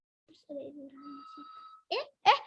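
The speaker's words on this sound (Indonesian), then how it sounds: "Kayaknya ada telepon." A telephone rings in a children's radio studio, a soft high electronic tone sustained for a moment, followed by two short, louder warbling ring bursts, heard alone without talk.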